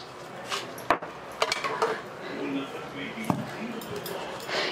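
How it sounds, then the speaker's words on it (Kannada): Knife cutting onion on a board at close range, several sharp chopping taps scattered among clattering kitchen sounds, with a person talking through it while making beetroot palya. "ಈಗ ನಾನು ಈರುಳ್ಳಿ ಹೆಚ್ಕೊತಾ ಇದ್ದೀನಿ"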